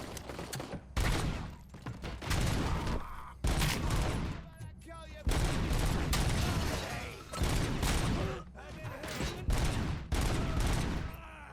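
Dense bursts of gunfire from the video game RoboCop: Rogue City, with rapid machine-gun volleys and heavy shots, loud and close, repeating in waves across the stretch with short pauses between.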